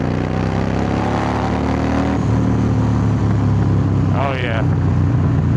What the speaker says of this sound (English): let's try just like a third gear pull